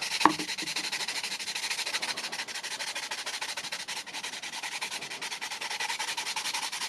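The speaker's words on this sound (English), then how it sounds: "make a bunch of dust using the sanding block" A sanding block rubs graphite into dust steadily and close up, a continuous dry scraping hiss with a quick rhythmic back-and-forth texture and no talking.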